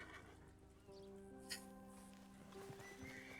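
A horse in Red Dead Redemption 2 whinnies amid clip-clopping hooves, a faint, quiet mix with a brief sharp knock in the middle.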